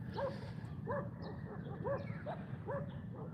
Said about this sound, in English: Dogs on the beach, barking at people.